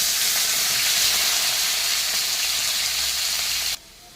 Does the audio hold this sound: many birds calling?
no